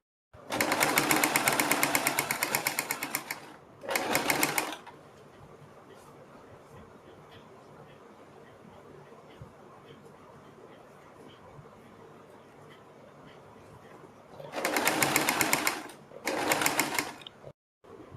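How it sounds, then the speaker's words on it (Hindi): A sewing machine stitches beside the piping on a kurti neckline, running in two loud bursts at the start and two more near the end, with a long quieter stretch of background between them and some speech heard. "पाइपिंग के बिल्कुल बराबर में हम सिलाई लगाएंगे"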